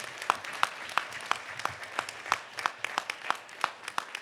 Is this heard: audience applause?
yes